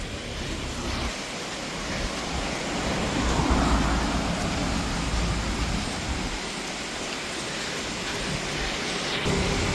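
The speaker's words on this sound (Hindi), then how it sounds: "बारिश हो रही है अच्छी खासी" Heavy rain pours steadily during an outdoor run, a dense, loud hiss of falling water throughout.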